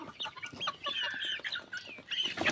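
Native village chickens cluck and chatter close by on a farm, a busy run of short calls and squawks with no pauses, livelier toward the end.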